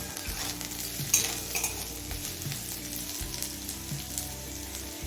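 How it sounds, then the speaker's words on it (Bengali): Potatoes and flat beans sizzle steadily in a pan, a continuous close frying hiss with soft scraping stirs, and a low background hum throughout. "এবার আলু আর সিমটা কিছুক্ষণ সময় নিয়ে ভেজে নেব"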